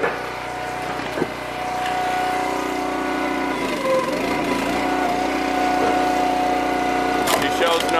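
Small gas engine of a log splitter running steadily while splitting small firewood rounds and re-splits, a loud close drone that briefly dips and strains mid-clip, with occasional knocks.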